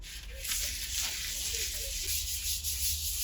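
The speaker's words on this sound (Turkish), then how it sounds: "Şu an bitti zımparalama işlemimiz." Steady dry sanding of a helmet rubs close by, a continuous hissing scrape with brief pauses and slight changes in stroke.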